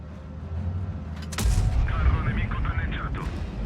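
Tank cannon fire in the World of Tanks video game, a single loud booming shot over game engine rumble, followed by rattling and whirring game effects.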